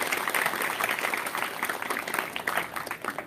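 An audience claps loudly for a festive decoration at a devotional gathering, a dense, steady burst of applause that fills the space throughout and fades slightly toward the end.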